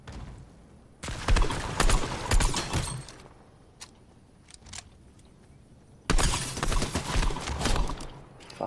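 Bursts of gunfire in a Fortnite squad match on PS5, two loud dense volleys of rapid shots separated by quieter stretches with scattered single pops and game noise.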